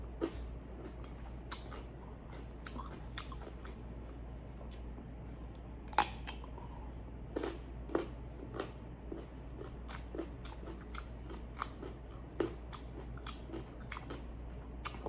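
Crisp bites and crunching chews on unripe mango eaten with bagoong, recorded close and quiet, with sharp irregular crunches spread across the stretch and a low steady hum underneath.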